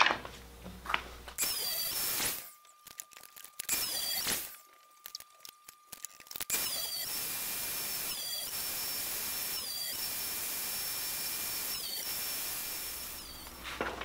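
A power saw cuts small wooden kumiko pieces, whining up, biting in with short bursts and then running in a long steady scream with a faint rhythmic pulsing, near and loud.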